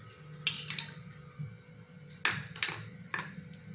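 A spoon clinks and scrapes against a glass while stirring homemade carrot juice mixed with boiled, cooled milk, giving a few bright taps in quick bursts over a quiet low background hum.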